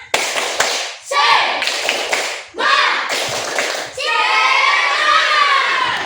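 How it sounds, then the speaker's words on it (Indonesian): A class of children stands and performs a rhythmic hand-clapping chant together, with bursts of sharp claps alternating with their loud group voices in a lively classroom. "kita tepuk semangat dulu supaya lebih bersemangat lagi"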